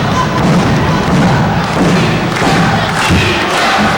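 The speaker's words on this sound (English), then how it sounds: "This crowd making some noise for CJ O'Doyle" Wrestling arena crowd at an independent show roaring and shouting, with heavy thumps from the ring cutting through the loud, continuous crowd noise.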